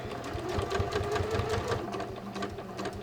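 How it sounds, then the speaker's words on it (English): A sewing machine runs steadily, stitching a long straight seam up to the top edge of an invisible zipper, with a dense continuous whirring rattle throughout and no talking. "I'm literally just going to stitch all the way up,"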